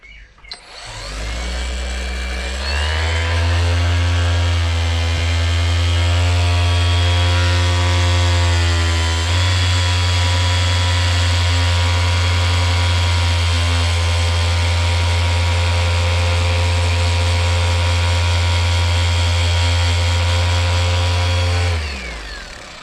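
A car polishing machine fitted with a pad spins up after a brief start and runs steadily at a loud, strong whine for around twenty seconds while it works polish off the paint, then winds down.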